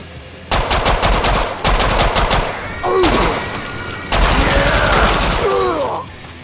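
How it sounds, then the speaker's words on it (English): Rapid automatic weapon fire in the video game Killing Floor 2, loud close bursts with short pauses, mixed with whooshing and creature-like effects, no talk. "I shot scum with this, now I shot you!"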